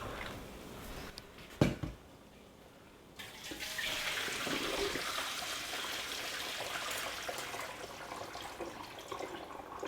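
Water drains from cauliflower into a sink, a continuous close splashing rush after a brief clunk and a quiet pause.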